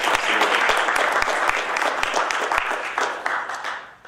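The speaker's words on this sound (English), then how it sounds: "Definitely a round of applause is needed." Audience applause in a studio setting, a dense steady burst of many hands clapping close by, holding strong for about four seconds before tapering off at the end.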